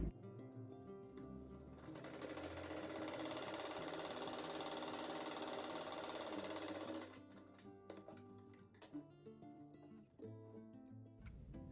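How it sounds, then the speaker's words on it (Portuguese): A sewing machine stitches fabric for a homemade rug, running fast and loud as one steady burst for about five seconds before stopping, followed by quieter handling clicks and rustles. "Agora faz a costura aqui também nesse."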